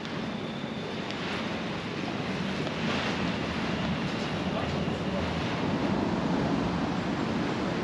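Steady, broad wind noise roars across the microphone on Augustusplatz, an open square in Leipzig, Germany, a constant rushing hiss without letup.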